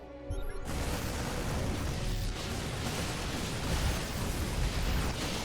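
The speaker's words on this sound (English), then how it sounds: "Another disruptor shot, not quite going to be good enough right there." A disruptor shot exploding in the StarCraft 2 video game, a sustained dense crackling burst of noise that stays loud and steady for several seconds, with no talk over it.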